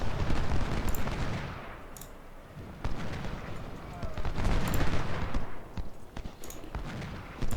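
Rifle gunfire in a war video game battle, with repeated shots and bursts under dense, noisy battlefield ambience and a speaking voice.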